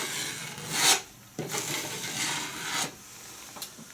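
Scraping and rasping at a hole in wood while it is cleaned out for a C-FIX repair, a few close strokes with short pauses between them and no voices.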